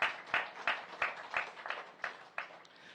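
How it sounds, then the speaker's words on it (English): A small audience at a Diwali puja and cultural program claps in a sparse, rhythmic way, with roughly ten distinct, evenly spaced claps standing out over faint background noise. "A round of applause to Arti,"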